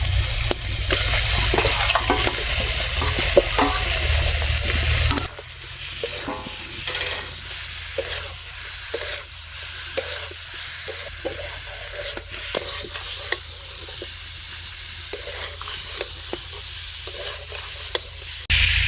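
Fried cauliflower and potato pieces sautéed in spice masala for Bengali rohu fish curry, sizzling loudly at first, then a quieter steady fry with scattered stirring clinks and scrapes, no voices.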